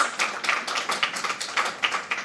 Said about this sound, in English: Round of applause, players